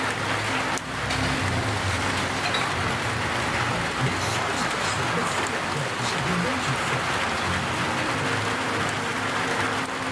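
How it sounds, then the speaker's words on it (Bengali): Steady rain falling outdoors in Bilmatpur, Faridpur district, near a school building, a dense continuous hiss that stays even and fairly loud throughout with no pauses. "বিলমাতপুর বৃষ্টি নামতেছে"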